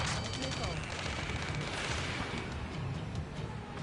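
Dense gunfire and battle noise from the Ace Combat 7 video game, a sustained loud clatter of shots with radio-style shouting mixed in across the whole stretch.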